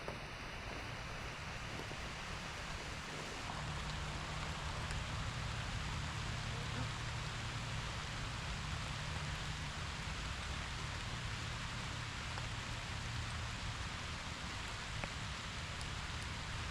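Steady rain falls outdoors, a dense, even hiss of drops that stays constant with some wind noise on the microphone and no talking.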